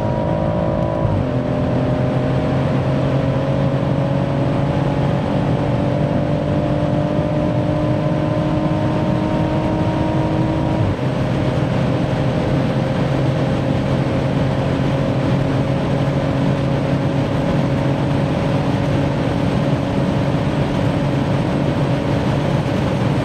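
A 730 bhp BMW M140i pulling hard in fifth gear, a loud continuous engine drone with steady rising harmonics and a brief dip near the middle as it keeps accelerating, constant wind and road roar underneath.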